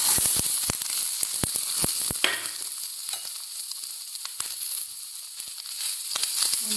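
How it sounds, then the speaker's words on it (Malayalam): Grated coconut sizzles steadily in hot coconut oil in a pan, broken by sharp scraping strokes of a spatula at first, then a softer continuous frying hiss. "ഒരു പാനെടുപ്പ് വെച്ച് ചൂടാക്കി അതിനകത്തിട്ട് വറുത്തെടുക്കാം കുറച്ച് വെളിച്ചെണ്ണ ഒഴിച്ചിട്ടുണ്ട്"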